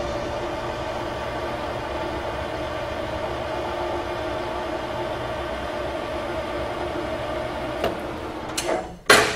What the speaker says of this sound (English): I'm going to take a trial cut along there, and I'm going to stop the tool in the necking groove here